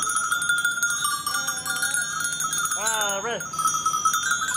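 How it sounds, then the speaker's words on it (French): Small hand bells rung by an audience during an outdoor street-theatre show at the Aurillac festival: a few bright, ringing tones in two short clusters over a steady crowd-and-street background. "Qui c'est qui a les petites cloches? Levez-les."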